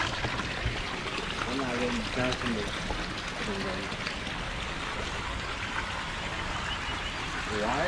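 Water runs and pours in a continuous, even stream, with voices talking faintly underneath.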